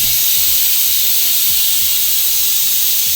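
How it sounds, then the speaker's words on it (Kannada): A pressure cooker cooking tomato rice vents steam through its whistle as a loud, steady, unbroken hiss lasting the whole stretch, close by, with faint low rumbles beneath. "ಈ ಟೈಮಲ್ಲಿ ಕುಕ್ಕರ್ ಮುಚ್ಕೊಂಡು ನಿಮ್ಮ ಮನೇಲೆಲ್ಲ ಅಕ್ಕಿಗೆ ಎಷ್ಟು ವಿಷಲ್ ಹಾಕ್ಸ್ಕೊತೀರಾ ಅಷ್ಟು ವಿಷಲ್ ಹಾಕ್ಸ್ಕೊಳ್ಳಿ"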